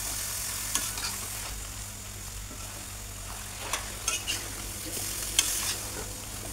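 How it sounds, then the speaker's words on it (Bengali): Cauliflower and eggplant fry in a wok while being stirred, giving a soft steady sizzle with occasional scraping clinks of the spatula against the pan, fairly quiet and close. "এখন এই সবজিগুলোকে ভালো করে আস্তে আস্তে নেড়ে কষিয়ে নেওয়া হচ্ছে"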